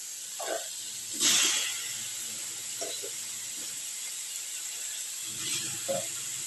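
Chopped tomatoes go into a pan of sautéing onions and garlic and hiss sharply into steamy sizzling, with a louder burst early and softer scrapes and pops around it, close up and with no talk.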